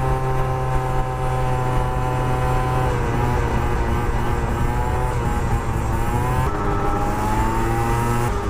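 A car fitted with a new exhaust revs and pulls away, its loud, steady engine drone rising slightly in pitch toward the end, close by and with no talking.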